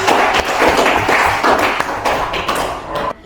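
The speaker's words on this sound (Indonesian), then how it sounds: "tepuk tangan buat Depi" A classroom of students claps together for a classmate, a quick burst of dense, fairly loud applause that carries on steadily for a few seconds and then cuts off sharply.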